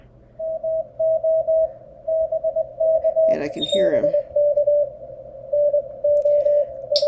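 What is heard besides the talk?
Morse code sidetone from a POTA station on ham radio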